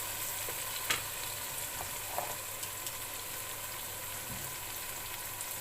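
Tomatoes frying in a pan for mutton korma, giving a steady, even sizzle with a few soft stirring knocks and no voices.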